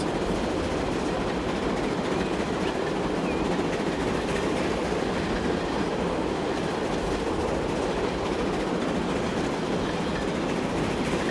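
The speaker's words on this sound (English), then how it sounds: "passenger train blocking the way" In Transport Fever 2, a train runs along rails with a continuous rumbling roll and faint rhythmic clatter of wheels, steady and moderately loud throughout.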